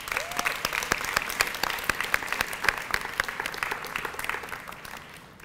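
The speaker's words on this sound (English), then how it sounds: "Another round of applause for these students." Steady applause from a sizable audience, many hands clapping at once, sustained and then tapering off toward the end.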